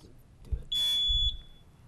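A quiz show buzzer sounds once at close range, a sustained electronic tone lasting about half a second, with faint room noise and low thumps around it.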